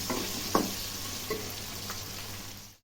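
Cut potatoes go into a hot pan for an alu curry and set off a steady sizzle and crackle, with a few soft stirring knocks. The sound stays fairly quiet and close, then stops abruptly.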